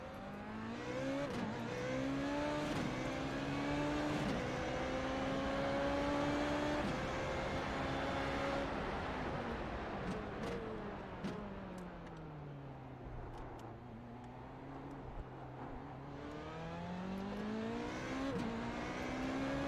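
Formula Renault race car engine at Monza in iRacing, heard from on board: it revs up through the gears with sharp shifts, then drops as the car brakes into a corner and climbs again, loud and alone.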